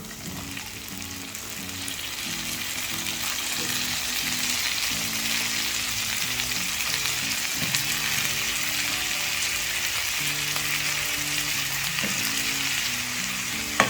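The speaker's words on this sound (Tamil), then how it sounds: "இந்த பிரிஞ்சால் நம்ம எண்ணெயிலே நல்லா குக் பண்ணோம்" Brinjal (eggplant) frying in oil with onion and garlic, a steady close sizzle with bubbling crackle and occasional soft stirring knocks, continuous throughout.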